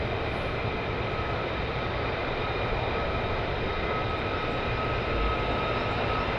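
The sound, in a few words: F-35 military jets taxiing at RAF Lakenheath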